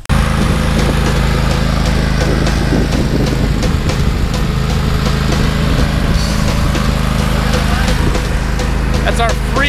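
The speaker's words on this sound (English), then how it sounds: "That's our free lawn tractor." A John Deere lawn tractor engine, a free machine being rescued, runs loud and steady up close for the whole stretch, its continuous mechanical drone unbroken, with voices faintly mixed in beneath.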